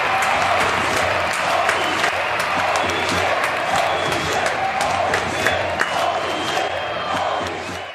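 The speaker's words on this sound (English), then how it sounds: "we got to give another round of applause" A crowd applauds continuously and loudly, with scattered cheers and whoops over dense, steady clapping that holds at full strength throughout.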